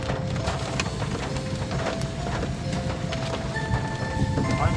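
Rain drums steadily on the roof of a moving car, a dense continuous patter with faint engine and road noise underneath.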